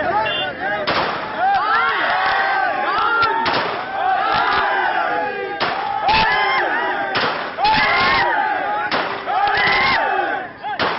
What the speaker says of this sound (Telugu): రెండు చేతుల్లో 2 రివాల్వర్లతో గాల్లోకి కాల్చాడు. ఒక్కసారిగా బుల్లెట్ల శబ్దం వినబడడంతో చుట్టుపక్కల వారు హడలిపోయారు.